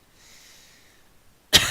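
A single sharp, loud cough breaks out close to the microphone after more than a second of near-silence with a faint high hiss.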